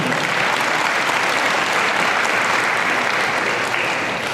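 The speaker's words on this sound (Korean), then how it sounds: "큰 박수로 부탁드리겠습니다" Sustained applause fills a gymnastics championship opening ceremony in Korea, a dense, steady wash of clapping from a large crowd that holds evenly throughout.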